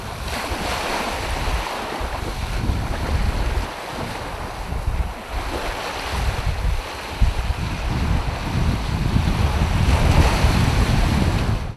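Sea waves wash in continuously on the Romanian seaside in spring while strong wind buffets the microphone, making a dense, loud roar of surf and gusts throughout with no voices.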